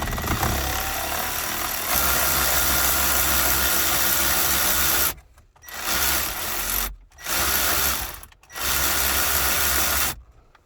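A power driver whirs steadily while backing out the 10mm screws holding the factory radio of a Subaru BRZ, loud and close, then breaks into three shorter bursts separated by brief pauses.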